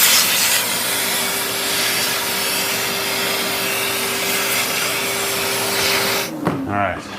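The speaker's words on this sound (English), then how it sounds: "Let's just vacuum this out and hope that I don't mess anything up." A vacuum cleaner sucks dust out of old audio equipment, a loud, steady close-up roar that holds for several seconds before cutting off abruptly near the end.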